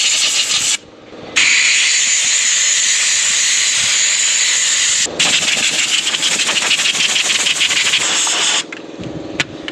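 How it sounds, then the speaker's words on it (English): Compressed air blasts out a tractor radiator in a loud, harsh, close hiss that runs for several seconds, cuts briefly, then resumes steadily before stopping near the end, with no talking. "maybe they want some shots of me blowing out the radiator"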